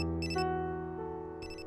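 A mobile phone ringtone rings indoors in a home, a loud melodic electronic tune with bright chiming bursts repeating, playing alone without speech.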